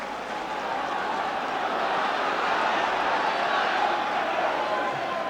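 Football crowd at a league match roaring and cheering in a steady, broad wash of noise that stays loud throughout.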